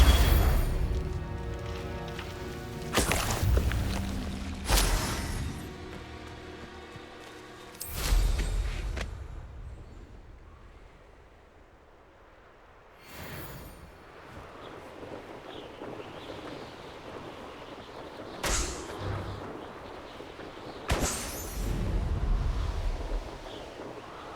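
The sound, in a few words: spell explosions in the video game Hogwarts Legacy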